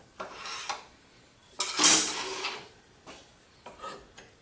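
Sandpaper of 40 grit rubbing against a wooden bottle stopper spinning on a lathe, producing close, raspy swishing strokes in several separate passes of varying length.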